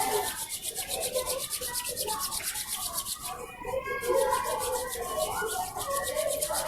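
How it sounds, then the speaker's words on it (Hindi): Both palms rubbed briskly together during a yoga session, a close, steady rhythmic swishing friction that continues throughout, with a soft voice faintly present. "अब आप दोनों हाथों को रब करें।"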